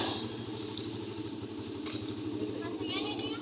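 A motorcycle engine chugs in a steady low rhythm as the bike pulls away, moderately close, with faint voices in the background.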